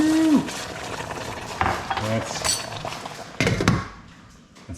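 Rice stirred in a hot pan for red beans and rice gives short scraping strokes and a soft sizzle, with a brief clink of metal, close and fairly quiet.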